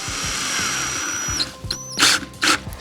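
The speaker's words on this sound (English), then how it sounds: "Just gonna drill a screw in there just a little bit." A power drill whines steadily, then cuts off and gives a few short, sharp bursts as it drives a screw into cherry wood, close by.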